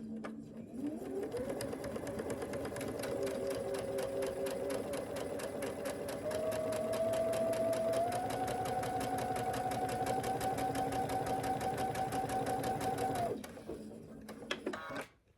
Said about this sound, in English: I'm going to take it to the sewing machine and I'm going to sew a 1/4 inch